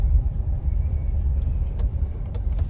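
Steady low engine rumble heard from inside a moving car on the drive home from Silang, Cavite, a continuous deep drone with faint road noise and no talking.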